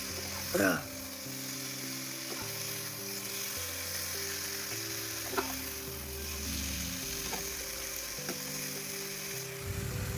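Spice mix sautéing in oil in a pan, a low continuous sizzle with occasional stirring scrapes and one brief clatter near the start, quiet and close, over a faint steady background hum.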